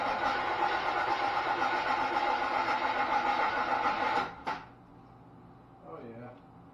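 A small block Chevy engine runs at a steady, moderately loud idle for several seconds, then cuts off abruptly, leaving quiet with faint movement sounds afterward.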